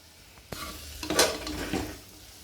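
Pavta beans and spiced filling being stirred and sautéed in a hot pan, with soft sizzling beneath a few scraping stir strokes of a spoon against the metal.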